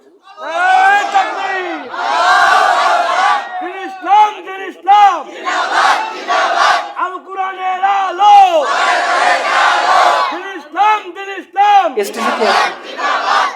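A large crowd at a rally chants the takbir in loud, unified bursts, answering a leader's repeated call. Each chorus swells and breaks off in a steady call-and-response rhythm, close and powerful.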